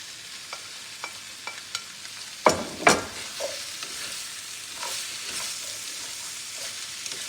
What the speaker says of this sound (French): Le tout est remué.